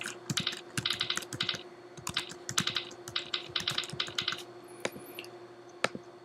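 Rapid keystrokes on a computer keyboard while an email is typed, coming in quick clustered bursts with short pauses, close and fairly quiet, with no voices.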